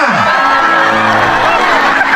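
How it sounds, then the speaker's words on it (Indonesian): A stage audience at a live comedy show in Sukabumi cheers loudly for Ferdinand, a dense steady roar of crowd noise with whoops and shouts sustained throughout. "Inilah tepuk tangan buat Ferdinand Andriansa Sutisna."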